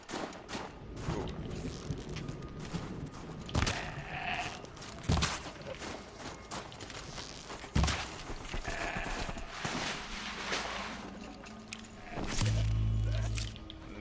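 A goat bleats in a video game, a few wavering calls over a busy bed of game noise and thumps, fairly faint and mid-distance, with a deep hum swelling near the end.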